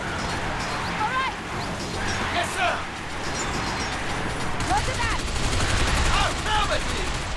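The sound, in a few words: gunfire in the video game Binary Domain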